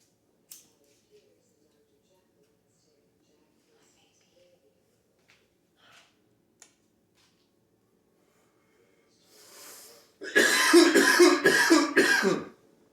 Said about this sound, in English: Coughing into my hand